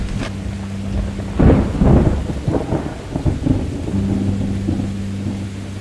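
Rain falls steadily on a mountain valley village in Mae Taeng, Chiang Mai, with a deep rumble of thunder rolling through, a low hum underneath, no voices.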